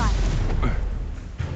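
Spell blasts in Hogwarts Legacy, a dense burst of booming combat explosions with a rumbling low end that hits hard at the start and recurs about a second in, filling the whole short moment loudly.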